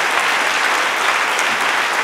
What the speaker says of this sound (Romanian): Aplauze și pentru ei și, bineînțeles, pentru cei doi maestri dirijori.